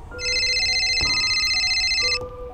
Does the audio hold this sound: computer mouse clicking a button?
no